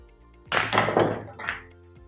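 Billiard cue strikes a ball on a pool table inside an old mansion, giving a short run of dull, solid knocks as the balls collide, fairly close and alone.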